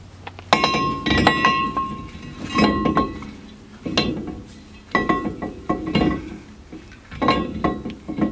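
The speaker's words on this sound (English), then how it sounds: "pop the rotor on." A brake rotor is being fitted onto the wheel studs of a Chevrolet Express van. It gives a series of sharp, ringing metallic clinks and clanks in irregular bursts, up close and with no talk.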